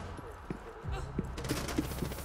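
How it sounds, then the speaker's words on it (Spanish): Gunfire in the video game Rainbow Six Siege, several sharp shots scattered through a short stretch, fairly quiet and mixed under game ambience and talk. "Es que ahora te disparan."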